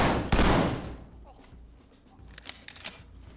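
Gunfire erupts in the tactical shooter Ready Or Not as one loud, close burst of shots. Sharper, fainter cracks of distant fire and clatter follow it.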